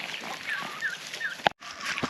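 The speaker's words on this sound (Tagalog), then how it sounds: "Sumusunod pa rin sa akin yung mga pabo" Farm turkeys near a walking person at a farmyard with pigs and water buffalo, giving several short gobbling calls in a loose series, fairly faint with outdoor background, broken by a sharp knock.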